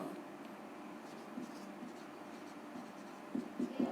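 Chalk or marker writing on a classroom board during a Class 10 maths lesson on quadratic polynomials, heard as faint, quiet scratching strokes with a few sharper taps near the end.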